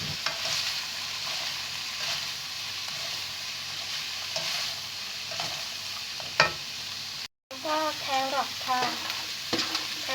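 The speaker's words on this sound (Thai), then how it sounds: "ผัดคลุกให้เข้ากันค่ะไฟแรงนิดนึงได้ค่ะ" Shredded cabbage and bean sprouts stir-fried over fairly high heat as spring roll filling, a steady close sizzle broken by scraping spatula strokes against the pan, continuing after a brief dropout with busier tossing and clatter.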